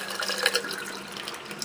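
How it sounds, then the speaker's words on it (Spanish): Water drains out of a funnel in a steady, close rushing trickle that stays fairly even for the whole stretch. "Y se va todo el agua"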